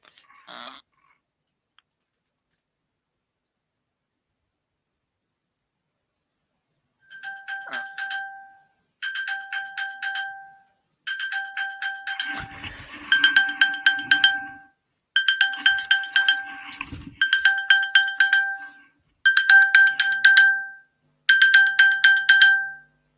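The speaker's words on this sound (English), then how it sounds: "Who set off Find My iPad in this house?" A Find My iPad alert sounds from an iPad as a loud, repeating electronic chime in regular bursts that start after a quiet pause and keep cycling, with faint background noise partway through.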